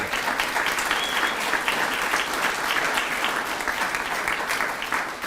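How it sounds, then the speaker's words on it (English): Audience applause at a national bravery awards ceremony, a steady dense clapping that fills the whole stretch without a break, with no voices standing out above it. "Give the Cope a big round of applause"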